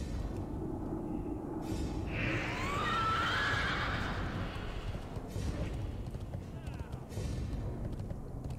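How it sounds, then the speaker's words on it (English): A horse neighs in World of Warcraft, one clear whinny rising and falling in the middle over a low, steady game ambience. "How does this Death Knight have a human horse?"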